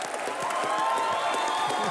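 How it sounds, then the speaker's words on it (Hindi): Brief, steady applause and cheering from a studio audience on a comedy talk show, dense clapping filling the moment with faint voices underneath. "वो अनिल सर के लिए और रणवीर के लिए तालियां।"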